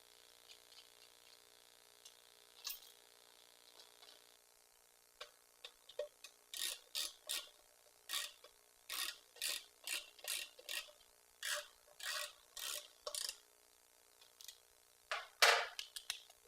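A ratchet wrench tightens bolts on a custom chopper's transmission mounting plate, giving quick bursts of clicking in a steady rhythm with short pauses between strokes, close and fairly loud in a quiet shop.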